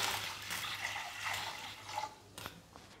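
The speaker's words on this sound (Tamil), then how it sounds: "காயை வேக வைக்கிற அளவு கொஞ்சம் தண்ணி ஊற்றிக்கலாம்." Water splashes and trickles into a cooking pot for a few seconds, fairly quiet, with a faint low hum underneath.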